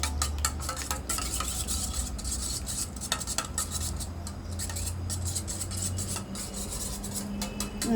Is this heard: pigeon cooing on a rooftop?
no